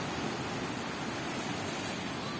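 Ocean surf at Pancer Puger beach, waves washing a swimmer toward the shore, a steady broadband wash of churning water with no distinct breaks, fairly loud and close, no voices.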